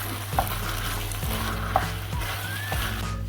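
A spoon stirs wonton filling in a hot pan, with a steady sizzle of frying underneath and a few scraping strokes against the pan, close and clear, no talking.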